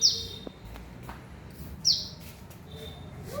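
A small bird gives two thin, high chirps about two seconds apart, faint against a soft background hum, with no speech.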